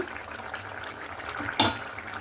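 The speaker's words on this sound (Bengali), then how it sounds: "এবার ঢাকনাটা তুলে নেব" A lid comes off a cooking pot in one brief metallic clank with a short hiss, following a soft bubbling simmer of a katla fish curry with potatoes and okra.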